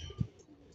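Racing pigeon at a release in Lucena, Quezon, a single soft low coo, brief and close, with faint background hiss.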